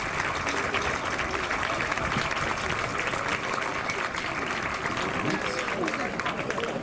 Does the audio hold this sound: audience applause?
yes